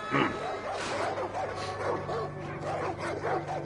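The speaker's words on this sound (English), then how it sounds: "Oh, they got dogs." Dogs bark in Far Cry 5, with a series of repeated bow-wows, yips and whimpering yelps at moderate loudness and an uneven rhythm, one after another throughout.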